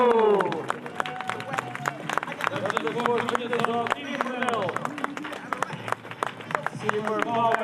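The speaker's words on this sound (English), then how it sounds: "Give a round of applause." A crowd claps and cheers as the Brunel sailing team finishes a leg of the 2017-18 ocean race. Dense, steady clapping continues throughout, with a commentator talking over it.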